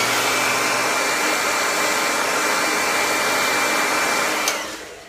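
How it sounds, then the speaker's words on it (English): A hairdryer blows with a steady, loud whooshing hum, then switches off and winds down near the end. "I'll hit that real fast with the hairdryer."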